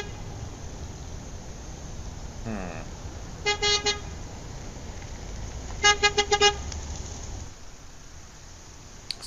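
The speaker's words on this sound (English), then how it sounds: "your voice is drowned out by the sounds of the cars at the intersection and the incessant beeping of horns" Car horns honk in traffic at a busy intersection, two bursts of rapid repeated beeps standing out over a steady rumble of passing cars.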